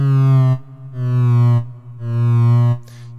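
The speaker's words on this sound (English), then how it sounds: "You can hear that the LFO is just continuing while we're not playing." A steady synth tone swelling and fading in a slow, regular pulse, three broad cycles of loudness from a slow LFO, alone and clear.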